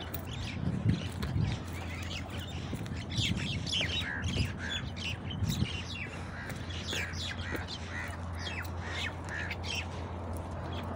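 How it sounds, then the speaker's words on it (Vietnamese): Birds chirp and squawk in a steady busy chorus of many short calls over a low constant hum outdoors at a construction site in Sharjah, UAE. "Chim chóc này hót líu lo này."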